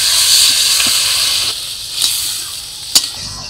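Water poured into a hot pan of greens sends up a loud, sustained steamy hiss that slowly eases, with a few faint clicks of utensils against the pan.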